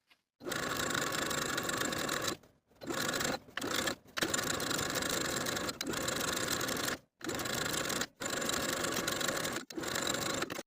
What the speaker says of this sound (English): Then I'll edge stitch that narrow hem in place along the inner fold from one center back all the way across to the other.